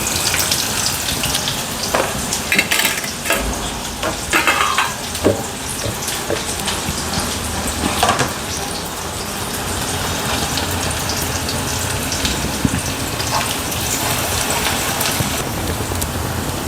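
Onion frying in hot oil with mustard seeds and cumin, a loud, steady, close sizzle that runs throughout without a break, with scattered crackles and pops on top of a dense hiss.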